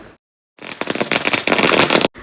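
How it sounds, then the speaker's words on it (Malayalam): Firecrackers burst during Vishu celebrations in a loud, close, rapid string of crackling pops lasting about a second and a half, with a short silence before it and a brief burst after. "കണിയെല്ലാം കണ്ടു കഴിഞ്ഞാൽ പിന്നെ പടക്കം പൊട്ടിക്കലും പൂത്തിരി കത്തിക്കലൊക്കെ നിർബന്ധമാണ്"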